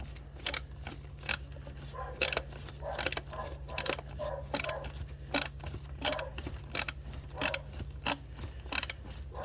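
A ratchet wrench on an extension clicking in short repeated bursts while removing the intake manifold from a 2008 MK5 VW Jetta 2.0T FSI engine, close and crisp over a low steady hum.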